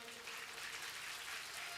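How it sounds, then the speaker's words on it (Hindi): Audience at a Hindu religious discourse clapping in a steady, slow, soft wash of applause, close and even, with no distinct voices over it. "ताली धीरे बज रही है।"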